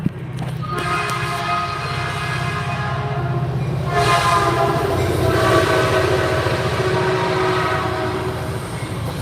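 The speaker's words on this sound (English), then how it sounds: "Train!" A train passes close by, its loud horn blaring in sustained tones over the steady rumble and clatter of the rail cars for several seconds.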